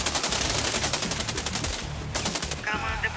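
Rapid bursts of Cobray Striker shotgun fire in the shooter game Warface, loud and close, a dense run of repeated blasts filling the whole moment with no talk.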